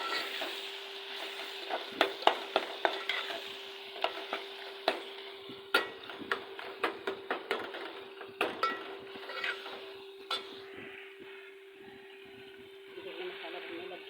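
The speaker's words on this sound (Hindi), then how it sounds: "मसाला भुनने लग गया।" Masala for aloo bharta sizzles softly in a pan while a spoon stirs and scrapes it in repeated sharp clinks, with a steady faint hum under the cooking.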